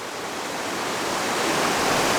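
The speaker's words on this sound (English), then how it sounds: "Just a gorgeous mountain stream here." A small mountain creek rushes steadily nearby, a continuous broadband wash of flowing water that swells slightly louder over a couple of seconds, with no voices.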